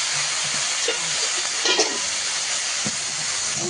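Taro dropped into hot oil with onion and green chilli, giving a steady, bright sizzle and hiss that holds evenly throughout, with a few faint clinks under it.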